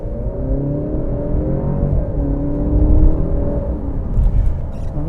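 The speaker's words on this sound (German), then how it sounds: "es wäre jetzt ja total verrückt, wenn ich in D schalten würde und einfach mal Gas gebe." A 2020 Alfa Romeo Giulia Veloce with 280 PS and Q4 all-wheel drive accelerates from inside the cabin, its engine note climbing steadily in a loud, continuous droning hum that lifts in pitch over several seconds.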